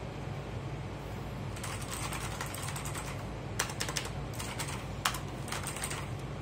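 Bursts of GAMDIAS HERMES E1 mechanical gaming keyboard typing, clicky keystrokes coming in quick clusters over a steady low hum, a few sharper clacks standing out.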